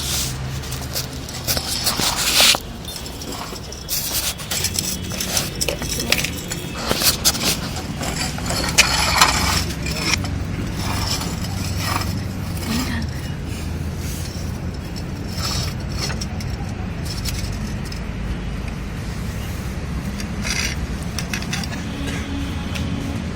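A battery-operated motorized screw jack runs with a steady grinding gear whir under ratcheting mechanical clicks and knocks, busiest in the first ten seconds, then settling into a constant hum.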